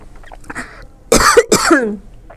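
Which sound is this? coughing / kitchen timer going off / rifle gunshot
coughing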